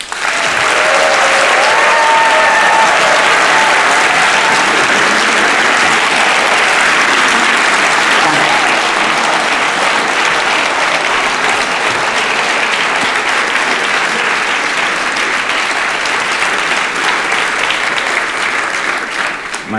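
A studio audience on a German TV talk show gives a guest, the actress and director Katharina Thalbach, a loud welcome. Dense applause stays steady for about twenty seconds, with no talking over it.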